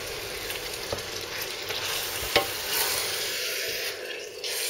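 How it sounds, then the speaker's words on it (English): Tomato spaghetti bolognese sauce with garlic, onion and basil simmering in a frying pan, a steady close sizzle with soft stirring scrapes and a couple of brief clinks. "Just chuck them all in to a frying pan, simmer it down."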